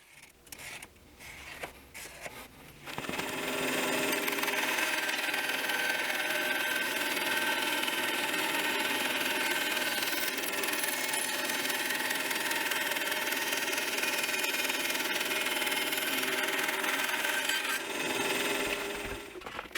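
A few quiet knocks, then a power saw starts and cuts continuously through a plastic laundry hamper, loud and steady with a harsh whine for about sixteen seconds.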